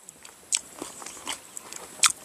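Crisp bites into a crunchy Kaew Khamin mango, a few sharp close-up crunches followed by chewing, with no talk.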